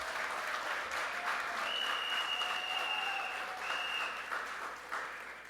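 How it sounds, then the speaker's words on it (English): Audience at a political gathering in Siparia applauding a retired major general, a long, full, steady round of clapping with some whistles and cheers mixed in, loud and sustained before tapering slightly. "Please let us give him that wonderful applause."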